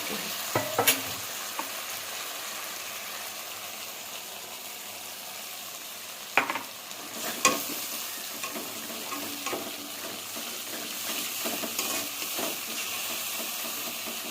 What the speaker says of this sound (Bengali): জিরে বাটা, আদা বাটা এটা দিয়ে দেবো। এবার একটু ভালো করে কষিয়ে নেব